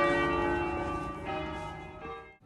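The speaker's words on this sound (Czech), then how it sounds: "Ve věži je největší zvon v celý širý Lombardii." A large church bell, the biggest in Lombardy, rings from a tower in Bergamo, Italy, its loud sustained metallic tone with rich ringing overtones decaying slowly over a few seconds, heard close and alone.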